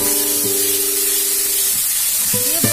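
A paste of cumin, coriander and ginger sizzles hard in a pan of frying onions for a mushroom-free mochar ghonto, a loud steady hiss with a few clinks and scrapes of a spoon against the pan.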